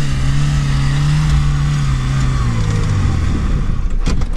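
A Lada Niva with open differentials and no lockers labours up a steep slope of sandy clay, its engine droning loudly and steadily, pitch sagging under load, with faint clatter near the end.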